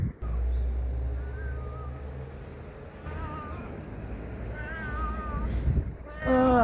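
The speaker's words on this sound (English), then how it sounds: "This is the house cat, Nero." A three-legged house cat meows several times, a few thin, rising cries up close over a steady low rumble of background noise, with the last meow the loudest.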